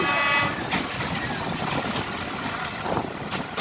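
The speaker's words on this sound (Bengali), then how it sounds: "অনেকদিন পর রেল দিয়ে যাত্রা করতেছি" Inside a moving train, a steady rumble of wheels and carriage fills the space, joined by a brief high tone at the start and faint periodic clanks. The roar stays constant and moderately loud.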